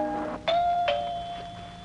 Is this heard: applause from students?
no